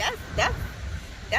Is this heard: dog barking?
yes